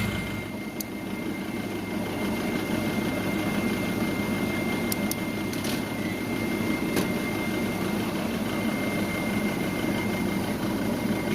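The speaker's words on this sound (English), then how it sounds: "And the unit should start pumping down." An HVAC unit with an iced-over evaporator coil runs its compressor while pumping down, giving a steady low mechanical hum and drone with faint rattling vibration throughout.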